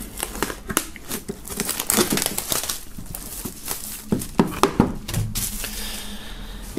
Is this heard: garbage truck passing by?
no